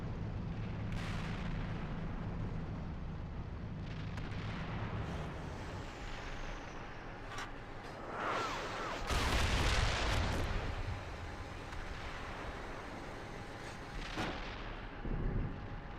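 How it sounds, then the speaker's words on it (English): Enemy indirect artillery fire lands around an intersection in Steel Beasts Pro, heavy booming impacts at scattered intervals, several sharp blasts and one long rumbling explosion near the middle, over a low droning engine bed. "continuous enemy indirect fire in the intersection Bravo 202 west of my BP"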